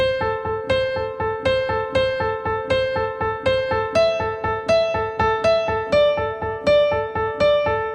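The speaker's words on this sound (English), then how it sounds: "Then speed it up so it sounds something like this." A quick, bright piano melody of evenly spaced notes repeats in a steady, brisk rhythm, played alone and up close.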